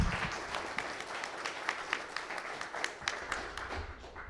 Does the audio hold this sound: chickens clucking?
no